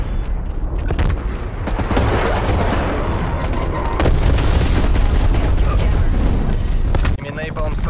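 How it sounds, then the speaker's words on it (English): A naval strike in Call of Duty: Cold War brings loud, rumbling explosions and rapid gunfire blending into a dense roar, with heavy low booms throughout and voices heard briefly under the din. "Enemy naval strike incoming."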